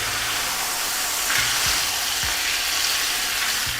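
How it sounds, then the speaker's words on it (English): Ground beef browns in a hot pan with a steady, dense sizzle and crackle throughout, close by, with a few faint low knocks as the meat is moved. "Browning the beef will definitely add a lot of flavor"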